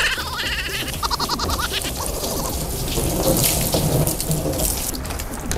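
Water splashing and spraying steadily from a hose while a car and its wheel rims are washed, a loud continuous rush close by with no talk.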